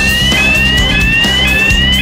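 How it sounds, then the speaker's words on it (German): An alarm sounding at the entrance to a chewing gum factory, a loud steady electronic tone with rising pitch, continuous and close, over a rhythmic pulsing hum. "Eine Minute hier und der Alarm ist angegangen."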